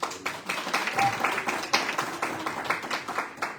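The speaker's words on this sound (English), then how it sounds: "So can we give a round of applause?" Gallery audience at an art panel discussion gives scattered, moderately quiet applause, uneven individual claps blending together in a room, without speech over them.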